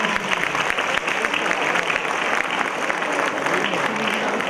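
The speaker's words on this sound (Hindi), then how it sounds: "जोरदार तालियां।" Loud, sustained applause from a crowd at an Islamic quiz contest, dense clapping that continues steadily throughout without pause.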